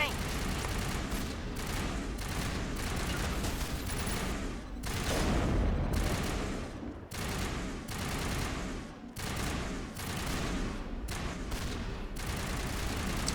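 Sustained gunfire from Geth turrets in the video game Mass Effect: Legendary Edition, rapid bursts of shots and fusillades rattling nearly nonstop, loud and dense, with occasional heavier booms.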